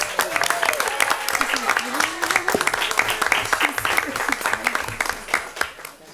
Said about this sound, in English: we're applauding for her